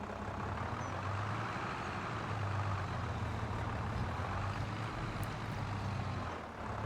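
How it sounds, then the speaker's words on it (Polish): In the video game Farming Simulator 25, a farm vehicle's engine runs with a steady, low, faint diesel drone and rumble, holding constant throughout with no talking. "Dobra, zapalmy silnik."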